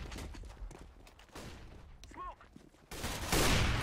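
Gunshots ring out in CS:GO competitive play, a few faint scattered shots followed by a louder burst of fire at the end, mixed with game ambience and quiet voices.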